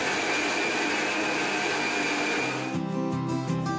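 Electric mixer grinder whirs loudly and continuously while grinding chillies and spices for a Malvani bangda fish masala, then shifts to a lower, pulsing motor tone near the end.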